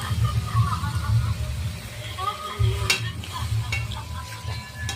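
Tomatoes with turmeric and salt sizzle steadily in a hot pan for tomato chutney, with a spoon scraping and stirring through them and occasional clinks, while a voice talks faintly underneath.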